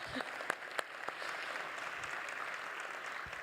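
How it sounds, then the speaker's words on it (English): Light applause from a conference audience at a forum panel session, a steady soft patter of clapping lasting a few seconds with a couple of sharper claps near the start. "Another round of applause, yeah."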